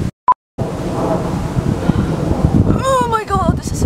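Strong wind buffets a microphone outdoors, a steady low rumbling roar that runs nearly throughout after a brief tone at the start, with a person talking over it.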